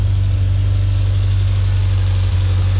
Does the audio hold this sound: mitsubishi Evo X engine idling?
yes